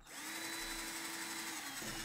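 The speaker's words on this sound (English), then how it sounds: "drill the holes" A power drill bores holes in recycled plastic keyrings, a steady high whine held for over a second before winding down, loud and close with no talk.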